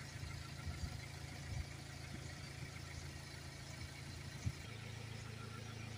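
A BMW 118d 2.0 diesel engine idles steadily at the exhaust, a low, even rumble heard close up with a blocked particle filter, holding constant apart from a brief bump near the end.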